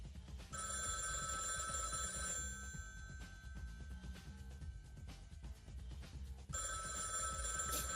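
An old telephone bell rings as a sound effect during a tabletop role-playing session, with two long electric rings separated by a gap and a third starting at the end, steady and bright over low background hum.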